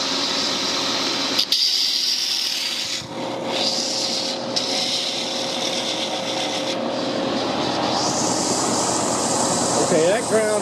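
Belt grinder running continuously, grinding the corner off an old steel file, with a steady loud rasping hiss and motor hum throughout and shifts in tone as the metal is pressed against the belt.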